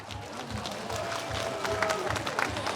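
An outdoor crowd at a celebratory concert during the Mungyeong Omija Festival claps and cheers in a dense, steady wash of noise that is moderately distant, with a voice talking over it.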